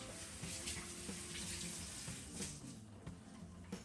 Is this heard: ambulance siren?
no